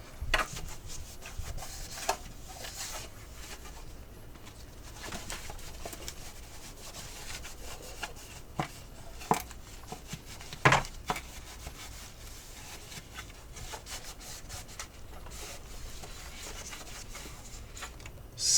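A rag rubs and wipes the inside of an American changer hopper cover treated with a little WD-40, giving soft, continuous scrubbing with a few sharper knocks and taps, close and fairly quiet.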